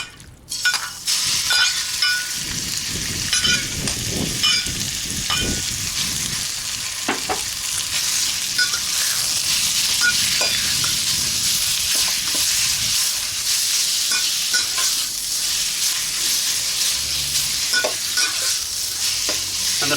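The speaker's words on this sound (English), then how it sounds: "And the pan is so hot that it's sealing straight away." Marinated turkey hits oil in a very hot wok on a rocket stove, bursting into a loud, close sizzle that settles into continuous intense frying with occasional clinks and stirring scrapes.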